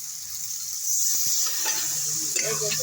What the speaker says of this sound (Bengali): শাপলাটা দিয়ে একটু নেড়ে চেড়ে আমি একটু জল দিয়ে দিচ্ছি।